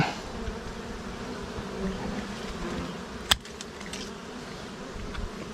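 Dwarf honey bees buzz steadily around a wild hive being harvested, a continuous close insect drone with one sharp click partway through; no talking.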